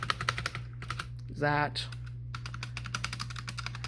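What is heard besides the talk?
typing on MageGee MK-Box 60% mechanical keyboard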